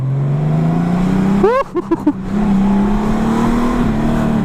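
A 2019 Honda Goldwing Tour DCT motorcycle engine hums steadily while riding, with a brief burst of rising revs or gear changes midway, close and continuous, with no clear talking.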